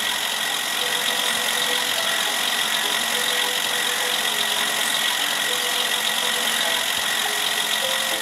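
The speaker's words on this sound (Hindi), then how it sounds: "सबसे पहले हमें खेत को जोतना है, तो जोतते हैं, चलते हैं ट्रैक्टर को लेके" A tractor engine runs steadily in a farming simulator game as the tractor heads out to plough a field, a loud constant mechanical drone and hum with no break and no talking.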